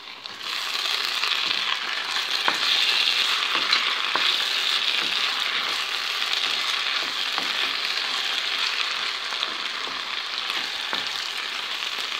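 Potatoes and onion sizzle steadily in a hot pan for the whole stretch, a dense, even frying hiss broken by occasional scraping stirs.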